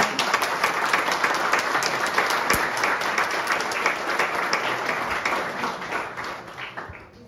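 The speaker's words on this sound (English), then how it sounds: "big round of applause for you" Loud, sustained applause from a meetup audience at a startup fundraising event, dense clapping filling the room steadily for several seconds before easing slightly at the end.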